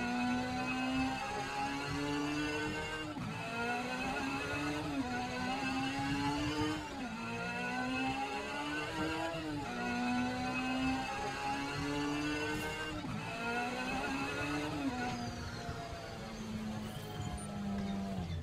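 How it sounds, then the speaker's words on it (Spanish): A motorcycle engine in the video game Firefall revs in repeated rising surges, each climb dropping back before the next, a loud buzzing whine that continues steadily with no pause. "he conseguido una moto que te la dan así como evento"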